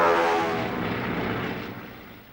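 Ford Trimotor aircraft 'Floyd Bennett' taking off, a rough multi-engine propeller roar that starts loud and slowly fades as it pulls away.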